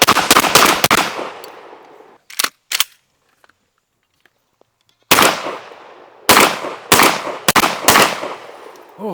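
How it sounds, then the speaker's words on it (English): A Sulun Arms SPAS-12 shotgun fires buckshot, loud sharp blasts with ringing decay: a quick cluster of shots at the start, two brief bursts, a pause, then four more heavy booms spaced about a second apart. "Five more rounds of sterling buckshot"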